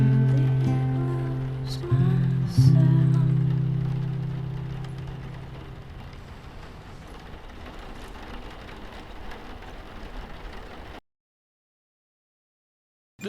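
Steady rain in The Last of Us, a soft continuous hiss of falling water under a fading low musical tone, dying away into silence near the end.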